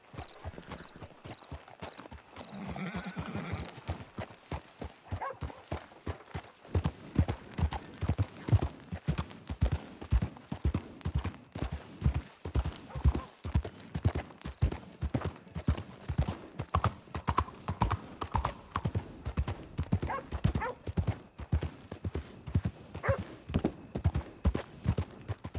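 Horse hooves clip-clopping in Red Dead Redemption 2, starting slowly and then settling into a steady rhythmic trot of sharp, close hoof strikes that continue for the whole stretch, with brief game ambience at the start.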